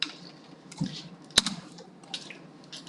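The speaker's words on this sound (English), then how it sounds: "I don't feel like typing in sigma, so I'm just going to click this here." Computer mouse and keyboard clicks during on-screen math work, a few soft, close taps scattered at irregular intervals with one sharper click near the middle, over quiet room noise.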